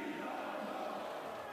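A volleyball arena crowd roars and chants during a Champions League match between Zarechie Odintsovo and Dinamo Moscow, a dense, steady wash of fan noise filling the hall.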